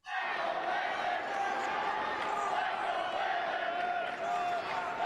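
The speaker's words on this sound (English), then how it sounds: "You can hear the fans in the background cheering for you." Crowd of fans at a state wrestling championship match cheering steadily in the background, a dense continuous roar with occasional louder whoops, with voices over it.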